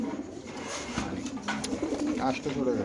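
White racing pigeons held in cages at a market, cooing in low repeated throaty calls that sit close under continuous nearby talking and background crowd noise.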